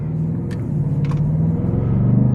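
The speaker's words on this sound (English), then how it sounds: "got some pickup in this twin turbo V8" An Audi RSQ8's twin-turbo V8 accelerates in a brief, steady, low rumbling drone that rises slightly in pitch and loudness. A couple of faint clicks sit on top.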